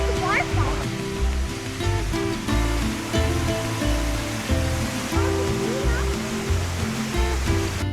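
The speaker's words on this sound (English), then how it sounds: "found a landscaped garden with waterfalls" Waterfalls in a landscaped garden in Mexico City give a steady, moderately loud rush of falling water, with low tones and people talking underneath the flow.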